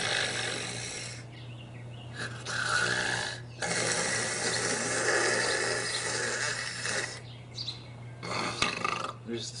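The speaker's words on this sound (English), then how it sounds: "snores all night." A person snores in long rasping stretches separated by brief pauses, loud and close over a constant low hum.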